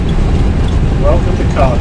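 An A320 roars with loud, low reverse thrust on the runway after landing in Flight Simulator X, a steady rumble with a voice speaking over it.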